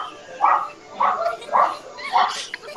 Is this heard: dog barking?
yes